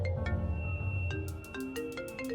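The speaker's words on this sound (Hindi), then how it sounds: "कौन है यार, सुबह से फोन किया जा रहा है।" A phone ringtone plays a repeating electronic melody of bright tonal notes at a low, steady level, sounding alone with no voices.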